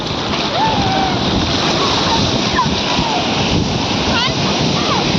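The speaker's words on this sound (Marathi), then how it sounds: "आली मोठी लाट आली" Sea waves surge and splash along the shore in steady broadband wash, with children's voices and shouts calling over the surf throughout.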